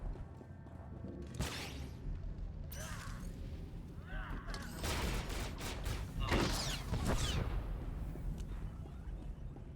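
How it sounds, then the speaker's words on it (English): Rolling blasts and sci-fi weapon fire from SWTOR Commando storyline combat, a dense mix of booming explosions and crackling shots that swell in the second half, with game sounds layered throughout. "Just look at all those explosions."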